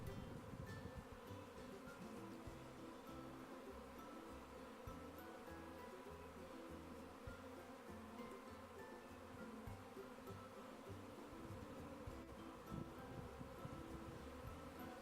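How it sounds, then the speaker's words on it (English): A honeybee colony swarms out of its hive through an exit tube, a dense, continuous buzzing hum from many bees, steady and faint with no voices. "This colony did so well, it even cast a swarm."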